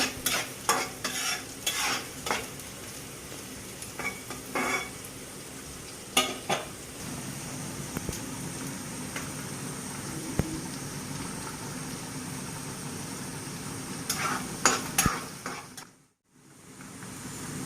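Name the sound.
onion frying in oil in a pan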